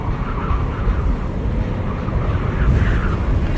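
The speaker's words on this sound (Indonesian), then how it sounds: "Angin makin kencang, keras menyapu di area yang terbuka." Strong storm wind sweeps across open ground on Mount Sindoro, a loud, steady roaring rush that buffets the microphone throughout with slight surges and no voices.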